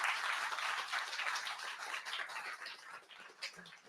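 An online meetup audience applauds in a dense, steady patter of many hands clapping, fading slightly toward the end.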